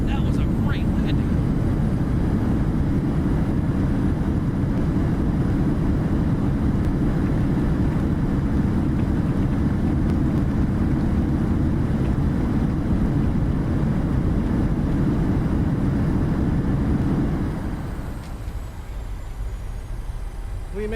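Steady loud roar of a Boeing 737-800 in Southwest Airlines livery landing in Microsoft Flight Simulator, a sustained engine and rollout rumble that fades and drops in level near the end.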